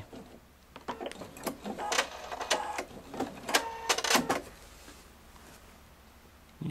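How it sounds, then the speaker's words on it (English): A Pfaff Performance 5.0 sewing machine does free motion stitching in irregular bursts of mechanical whirring and rattling, loud and close, then goes quiet. "Beautiful, beautiful free motion stitching"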